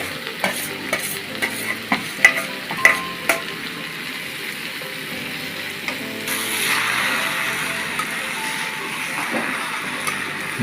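Boiled red lentils go into a hot pan with tomatoes and are stirred. Sharp spatula scrapes and clanks come first, then a steadier wet sizzle and bubbling, all up close.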